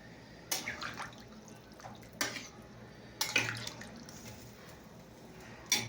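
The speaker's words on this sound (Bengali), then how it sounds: "তো আমি জল ঢেলে দিলাম।" Water goes into a pan of fish curry in three or four short, quiet splashing bursts, with soft dripping between them in a hushed room.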